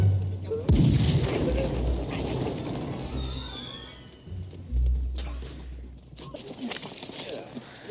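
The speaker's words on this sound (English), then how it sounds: "Jeez, looks like the 4th of July. Those fireworks are so bright." Fireworks burst in a film scene from Home Alone 2 set in New York, a sharp boom followed by crackling and whistling rockets, with a second heavy thump midway, loud and close amid busy background noise.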